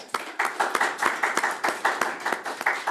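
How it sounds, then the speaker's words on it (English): A church congregation gives a round of applause, steady rhythmic hand claps from a crowd, loud and close, with no talk over it. "So let's give them a round of applause."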